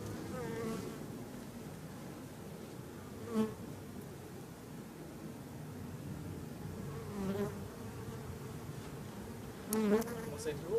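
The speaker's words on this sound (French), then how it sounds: "Avec beaucoup d'abeilles." A dense, steady buzz of many honeybees swarming around a beehive as it is moved into place, continuous and fairly close, with a few louder bursts as bees pass near.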